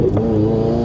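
Engine drone of an HKS turbocharged Toyota GR86 pulling steadily under light throttle, a loud, continuous hum heard from close by, very short.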